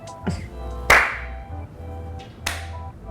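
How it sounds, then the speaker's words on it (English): A single sharp hand clap, close and fairly light, with a few softer taps and snaps around it in a quiet room. "That was a weak ass clap."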